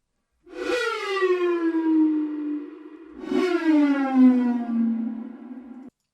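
Two long synthetic siren tones from a "Ghost Siren" synthesizer preset, each sliding smoothly downward in pitch with rich harmonics, separated by a brief gap, clean and alone.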